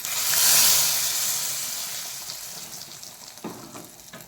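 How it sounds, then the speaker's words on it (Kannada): Curry leaves and mustard seeds are dropped into hot oil to temper a sweet-sour Udupi-style mango menaskai, giving a loud hissing sizzle that swells in the first second and then slowly fades. A few light clinks come near the end. "ಇದಕ್ಕೊಂದು ಕರಿಬೇವು, ಸಾಸಿವೆ ಒಗ್ಗರಣೆ ಕೊಡುವ"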